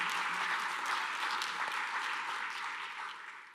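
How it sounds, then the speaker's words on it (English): A crowd applauds in a sustained burst of clapping, full and even, then tapers off toward the end. "that deserves an applause"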